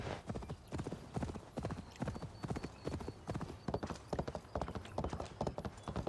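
A horse gallops in the video game Ni No Kuni, its hoofbeats forming a fast, steady clip-clop rhythm that repeats evenly for about six seconds with no voices.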